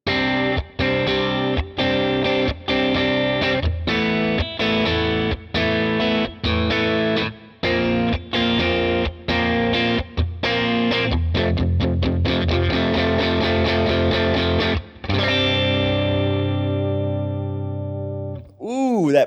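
An electric guitar plays choppy, staccato chords through a Carr Bel Ray tube amp, short rhythmic stabs with brief gaps, then sustained ringing chords and a final pitch-bent note.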